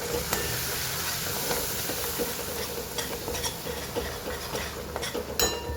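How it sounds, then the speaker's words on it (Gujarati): A spiced masala mixture with curd and salt being stirred in a pan over a gas flame, with a constant soft sizzle, repeated metallic spoon scrapes and clinks against the pan, close up with no talking. "સરસ મિક્સ કરી લઈએ. સહેજ અમે દહીં નાખીશું."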